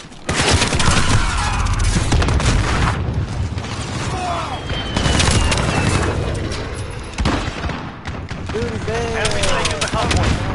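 AK rifle fire in a military shooter game, loud bursts of automatic gunfire and booms running continuously through a busy battlefield mix of effects.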